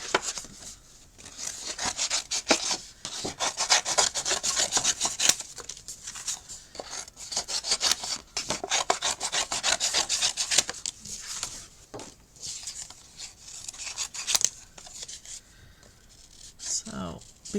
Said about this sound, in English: let's get these cut out